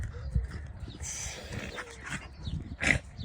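A ten-year-old female dog making faint short vocal sounds and shuffling movement nearby, quiet and intermittent, with a brief louder burst near the end.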